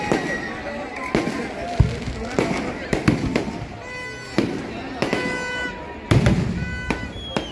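Fireworks at Bekal Beach Fest, a seaside festival, go off in a rapid irregular series of sharp bangs and crackles with whistling trails, loud and close, while a crowd murmurs underneath.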